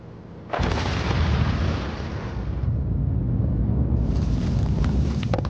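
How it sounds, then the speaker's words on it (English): A loud blast of explosives breaking up a salt mountain, erupting suddenly into a sustained, broad roar that rumbles on for several seconds as salt chunks tumble down the cliff face, with no voices. "With a loud explosion, salt chunks roll down the cliff."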